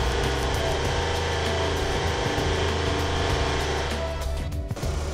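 A steady car engine hum at idle with a constant droning tone and a slight flutter, running close and unchanging for several seconds; the engine has a blown head gasket.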